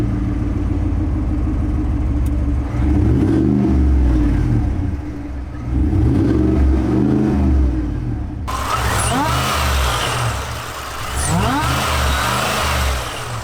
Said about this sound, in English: we've got a Magnaflow exhaust system, add a little bit of sound and a whole lot of performance.